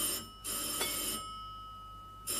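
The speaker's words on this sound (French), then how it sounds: "Ah, téléphone." An old-fashioned telephone bell rings in a 1935 Hitchcock film, The 39 Steps: two bursts of ringing with a pause between them, loud and clear against a quiet room.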